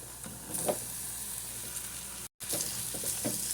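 Ivy gourd pieces hiss and crackle as they stir-fry in a pan with spice powders, a soft steady sizzle with a few stirring scrapes, a brief dropout midway, and no voices.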